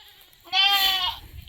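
A large goat gives one close, clear bleat of about 0.7 seconds, a nasal wavering cry over a quiet background.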